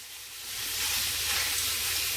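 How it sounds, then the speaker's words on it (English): A pound of ground meat dropped into a hot skillet, a bright hissing sizzle that swells within the first second and then holds steady and close, with no talking. "now I'm going to put my pound of meat in my hot skillet"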